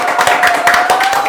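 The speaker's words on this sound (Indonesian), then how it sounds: "Tepuk tangan dulu" A group of people clapping hands on a talk show set, a brisk, close burst of overlapping claps lasting about a second, with a faint steady tone underneath.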